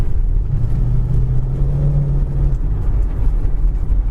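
Stock 350 V8 with a 2-barrel carburetor in a 1972 Chevy Chevelle, a deep engine note that rises briefly in a rev before settling back, loud and near.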